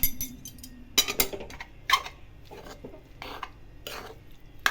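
Poha mixture being stirred in a pan at home for a breakfast dish, with intermittent scraping clinks and clatters of a spoon against metal, fairly close, no talk.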